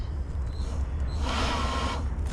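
The blower of a waste oil burner, set to low, whirs over a low background rumble, rising into a rushing whoosh midway and then easing off.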